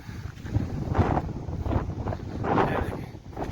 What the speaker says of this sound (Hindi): कितना तेज हवा है और बारिश हो रहा है साथ साथ